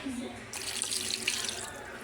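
Water pours steadily from a tap in a continuous broadband rush, starting abruptly after a brief quieter moment and continuing to the end.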